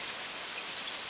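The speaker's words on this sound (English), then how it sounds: "It's raining!" Steady rain falling in a cartoon scene, a continuous dense hiss of drops spread evenly across the whole stretch with no voices over it.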